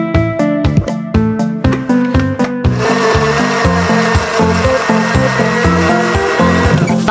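A loud blender pulses in short bursts, then roars continuously as it grinds bananas, with no talking.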